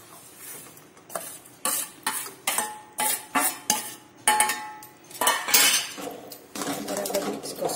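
Roasted crushed peanuts are stirred into sugar syrup in a metal pan, giving repeated scraping, clinking strokes of a spoon in an uneven rhythm, close and moderately loud.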